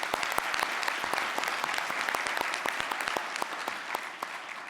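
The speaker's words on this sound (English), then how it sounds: "let's have a round of applause for our three panelists for educating us" An audience at an insurance legislators' conference session applauds the panelists, steady dense clapping throughout with no break.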